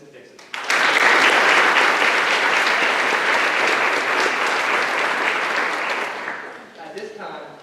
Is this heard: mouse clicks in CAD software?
no